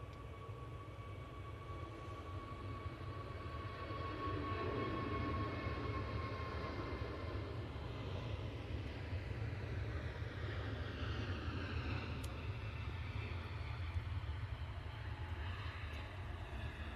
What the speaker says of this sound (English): Very nice departure there from the Pegasus